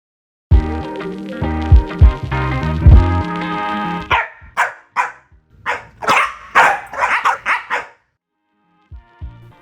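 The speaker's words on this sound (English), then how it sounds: "So yeah, my dog barks" A dog barks in a rapid run of sharp, loud barks and yips, close by, following a stretch of music; no one talks over it.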